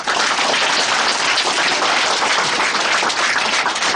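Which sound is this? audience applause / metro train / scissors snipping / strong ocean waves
audience applause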